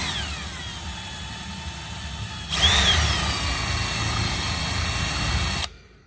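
A power drill enlarges a hole for a riv nut while fitting a carbon fiber front spoiler lip on a Lexus IS500, a steady close whirring that rises in intensity midway, then stops abruptly.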